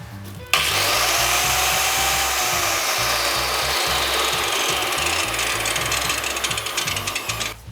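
A GRAND circular saw switches on with a sudden start and runs continuously at about 5450 rpm, a loud whirring whine over a steady rattling motor noise.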